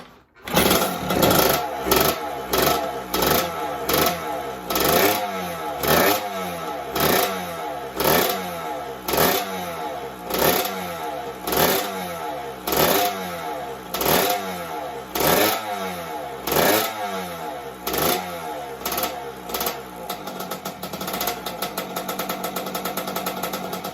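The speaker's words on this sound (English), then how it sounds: "So we'll see if we can get it running." A 1984 Kawasaki KX80 two-stroke motorcycle engine runs close by, blipped again and again in a steady rhythm of sharp revs that rise and fall, loud and alone with no talking.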